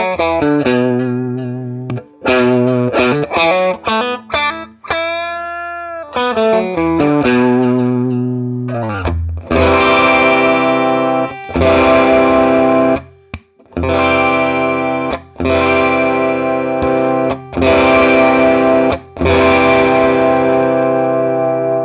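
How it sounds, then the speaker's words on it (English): Electric guitar played through an El Boludo overdrive pedal on a mild setting, heard alone: a clean-ish start with separate picked notes and a bent sustained note, then loud, crunchy driven chords struck in a steady rhythm with short pauses. "I'm going to show you how this pedal retains guitar and amp tone even when it's on in a mild setting."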